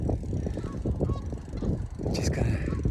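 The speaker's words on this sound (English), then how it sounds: "just gonna have these geese here for a little bit as my background" A flock of geese honking close by in a dense, overlapping clamor of repeated nasal calls, with a faint voice briefly mixed in.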